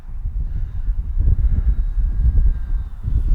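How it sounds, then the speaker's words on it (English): Strong gusty wind buffets the microphone outdoors at a radio-control plane flying session, a loud, continuous low rumble that surges and eases. A faint thin tone sits steadily above it, and no one speaks. "But even in this crazy wind"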